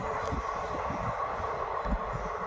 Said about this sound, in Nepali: गयो ट्रेन